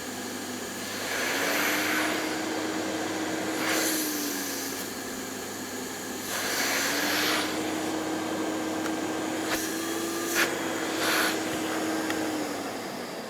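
A Hoover S3450 Sensotronic vacuum cleaner runs close by on auto mode, its motor droning steadily while the pitch rises and falls as the speed shifts, with a few brief hissing bursts of airflow.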